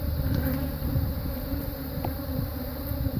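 Africanized honeybees at an open hive buzz in a dense, continuous swarm close by, a steady drone with individual bees flitting past, and no voices.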